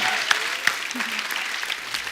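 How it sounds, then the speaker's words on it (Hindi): Steady applause from a studio audience on The Kapil Sharma Show, dense clapping that stays even throughout with a few sharper claps standing out near the start. "जोरदार तालियां।"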